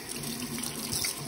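Tap water runs steadily into a sink while rinsing a glass hummingbird feeder, a close, even splashing hiss with no talk.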